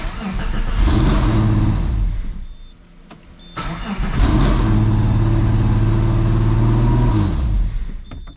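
A Subaru SVX engine cranks with a rhythmic churning whir, falters, then cranks again and catches into a loud, steady running roar up close.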